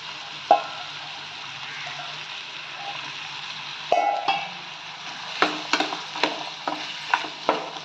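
Green peas tipped into a frying sweet-potato cutlet mixture and stirred, with a soft sizzle underneath and a string of sharp spoon scrapes and clatters against the pan, growing busier toward the end.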